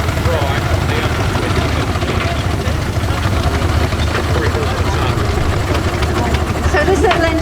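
A small 4-inch scale model steam traction engine, weighing three-quarters of a tonne, runs at a steam rally with a continuous low chuffing rumble nearby, while people talk over it.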